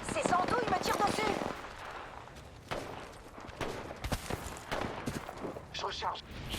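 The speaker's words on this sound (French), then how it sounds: "C'est Sandou, il me tire dessus." Video game gunfire crackles in bursts of rapid shots and sharp impacts, mixed with a voice talking early on and scattered footstep-like thuds, moderately quiet overall.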